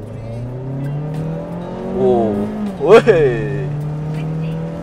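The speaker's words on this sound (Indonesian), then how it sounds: "Langsung aja kita tunggu rada sepi dikit, baru kita gas." A 2024 right-hand-drive Mazda CX-3 Pro accelerates hard, its engine tone rising and shifting in clear stepped climbs, heard from inside the cabin with a short excited exclamation over the peak.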